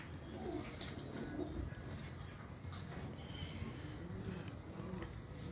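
Pigeons coo softly at a moderate distance in a loft belonging to a pigeon keeper in Bahawalpur, with steady background noise throughout and no clear voices.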